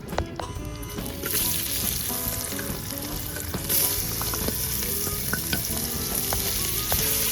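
Onions fry in oil for a Telugu methi chicken fry, giving a steady loud sizzle with scattered pops and occasional stirring scrapes, no talk.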